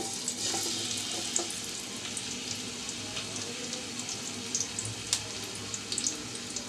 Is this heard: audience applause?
no